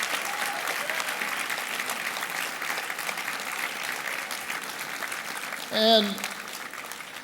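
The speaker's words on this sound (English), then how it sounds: "I want to give them all another round of applause" An election night crowd applauds steadily throughout, a dense wash of clapping that keeps going behind a speaker's voice, with a brief whoop near the end.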